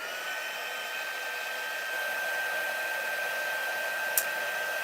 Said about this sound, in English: Heat up my heat tool.